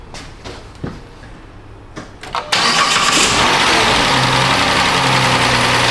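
A Chrysler Town & Country with the 4.0 engine, running rich, is heard first with a few clicks and clunks. Then the starter cranks briefly, the engine catches loudly and it settles into a steady, close idle.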